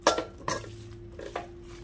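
A utensil scrapes and clinks against a pan while soya chunks are stirred with pepper powder, three or four distinct metallic strokes at an uneven pace, close and fairly loud with no talking.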